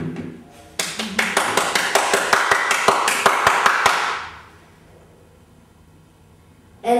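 A steady run of sharp hand claps, about a dozen in quick rhythm, fairly close, then they stop and quiet follows.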